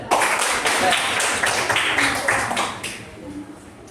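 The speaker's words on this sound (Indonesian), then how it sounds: "Tepuk tangan untuk Amel." Classroom applause for a student in a lesson on AI ethics, a short burst of steady hand clapping from a group of pupils with voices mixed in, fading toward the end.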